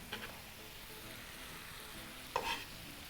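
Carrots cook in a pan with liquid for a Kenyan vegetable githeri, a faint steady simmer and sizzle with two brief stirring clinks, quiet and close, no voices.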